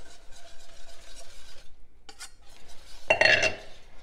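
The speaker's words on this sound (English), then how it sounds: "So now I'm going to add the dry to the wet, and I'm just going to slowly whisk that in." Dry ingredients being whisked slowly into wet ones in a bowl to make vegan cheese: soft rhythmic scraping strokes of the whisk, followed after a brief pause by a louder clink of utensil against the bowl, with no talking.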